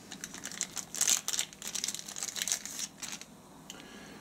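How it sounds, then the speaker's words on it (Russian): Plastic bag from an AliExpress parcel crinkles and rustles in a burst of crisp, close handling noises that peak midway and then fade to quiet. "Сейчас откроем пакет."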